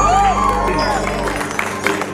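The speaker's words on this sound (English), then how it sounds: "Let's all just give a big round of applause for our bride" Wedding guests applaud and cheer for the bride in a short burst of crowd clapping mixed with chatter and a voice, the hands growing louder and more scattered toward the end.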